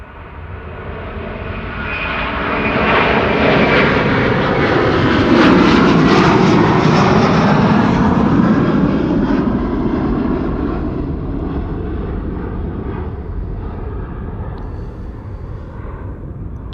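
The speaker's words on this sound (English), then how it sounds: "Suparna Airlines 747-400 to Nanjing in China." A Suparna Airlines Boeing 747-400 takes off at Amsterdam Schiphol Airport, its loud four-engine roar rising and sustained, then slowly fading as it climbs away. No voices.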